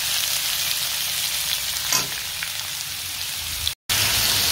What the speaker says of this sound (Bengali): তো চলো আপাতত আলু কুমড়ো ভাজাটাকে ভেজে নিই।